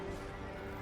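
A horse in a Total War battle gives a short whinny, brief and mid-distance, set against the dense rumble of the battlefield.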